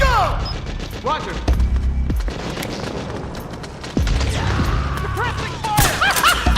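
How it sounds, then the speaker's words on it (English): Suppressing gunfire in Metal Gear Solid 4 on PS3: bursts of rifle fire and crashing impacts in a chaotic battle, loud and close, with shouted voices mixed in. "Suppressing fire!"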